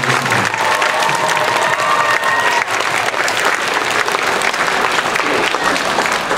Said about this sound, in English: So I'm going to give a round of applause.